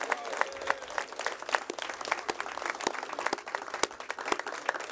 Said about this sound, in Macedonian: И сакам еден аплауз за него.